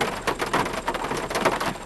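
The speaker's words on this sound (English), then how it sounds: "this rain is so loud" Heavy rain pours down loudly in a dense, steady patter with irregular louder splatters, close by and with no voices.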